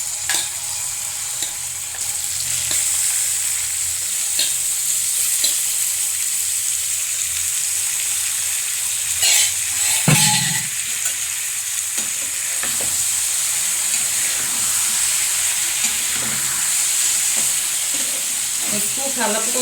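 Chicken sizzles and fries steadily in a pan with golden-brown fried onions while being stirred, a continuous close hiss with occasional scraping stir sounds, for a Telugu-style chicken curry.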